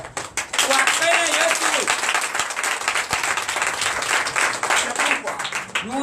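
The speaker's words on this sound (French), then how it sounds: "Nous donnons l'acclamation à Jésus" A Sunday church congregation in Comè, Benin breaks into dense, loud applause that runs steadily for several seconds, with voices cheering and calling out over the clapping.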